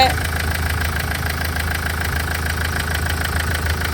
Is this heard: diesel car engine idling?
yes